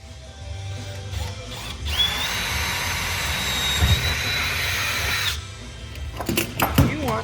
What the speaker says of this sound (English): if we start with a little pilot hole, we can make sure that we don't drill through them.